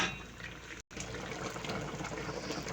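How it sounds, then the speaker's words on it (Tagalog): Coconut milk pours into a pot of chicken curry with potatoes, a continuous close liquid splashing and gurgling that breaks off for an instant and then resumes. "Lagyan na po natin yung gata."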